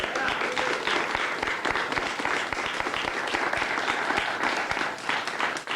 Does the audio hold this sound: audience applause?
yes